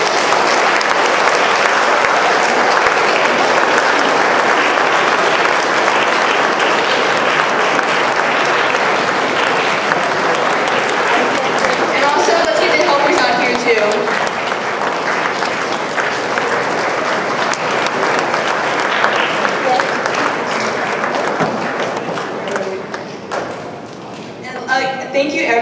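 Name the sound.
audience applause for speakers at a lecture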